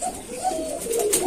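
Blue magpie pouter pigeons kept on a farm give a short, close soft cooing call, a couple of warbling low notes.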